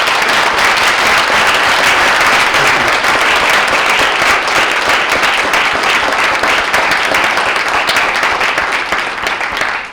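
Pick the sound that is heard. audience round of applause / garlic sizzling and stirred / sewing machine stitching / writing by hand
audience round of applause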